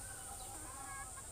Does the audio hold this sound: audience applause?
no